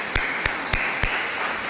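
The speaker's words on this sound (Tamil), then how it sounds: "கைத்தட்டிருங்க உங்களுக்கு" Audience applause at a church talk on family life: a handful of distinct sharp claps spaced out over under two seconds, sparse and close rather than a full ovation.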